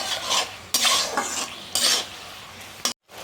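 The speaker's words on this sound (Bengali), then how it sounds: "এখন আমি আদা, রসুন, পেঁয়াজের সাথে টমেটোটাকে ভালো করে ভেজে নিচ্ছি" Tomato is fried with ginger, garlic and onion in a pan, with a spoon scraping and clattering against the metal in several quick strokes over a soft sizzle.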